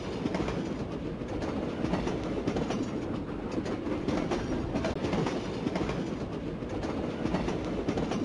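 A cartoon train runs steadily along a railroad track, giving a loud, continuous rumble with rhythmic clickety-clack from the wheels and no talk over it.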